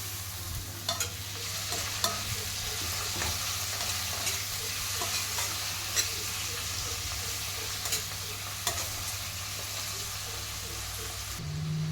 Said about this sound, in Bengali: রসুনটা কিন্তু ভাজা হয়ে গেছে এবার একটা দিয়ে দিচ্ছি কাঁচা লঙ্কা আর দিয়ে দেবো একটা টমেটো